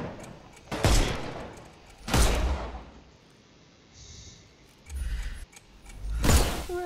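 Gunshots in the Sherlock Holmes Chapter One video game, aimed at enemies to knock off their armor: four loud separate booming shots spaced over several seconds, with quieter mechanical game sounds between.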